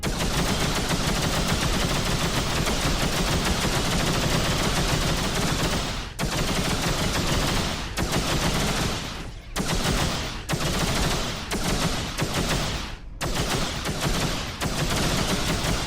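Continuous loud gunfire from ships' weapons blasting a target in the space combat game X3: Terran Conflict, dense sustained bursts with several brief pauses, no talking.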